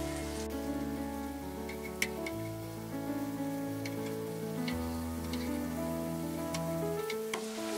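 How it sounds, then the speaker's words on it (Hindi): Aloo tikki shallow frying in a pan over a low flame, a steady soft sizzle and crackle of oil with small pops, close and continuous, no talking. "हम दूसरी तरफ भी 5 मिनट तक इसे फ्राई कर लेंगे।"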